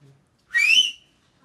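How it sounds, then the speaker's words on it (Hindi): A single whistle blown once, a short bright tone lasting about half a second, close and loud against near silence. "छुप जाओ, मैं सीटी बजाता हूँ"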